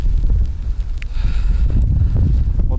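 Strong wind gusts buffet the microphone beside a reservoir during a storm, a loud, steady low roar with rumbling surges throughout and no clear voices.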